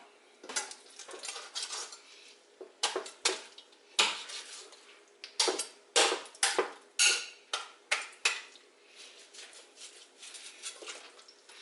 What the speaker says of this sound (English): I'm just going to split this all the way down.